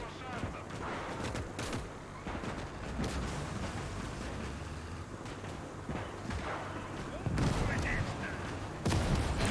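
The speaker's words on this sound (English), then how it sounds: "Mortars, AT guns firing." Mortar and anti-tank gun fire on a WW2 defensive line outside Leningrad in the strategy game Call to Arms, a dense run of thuds and cracks that keeps going with louder blasts toward the end, mixed with voices.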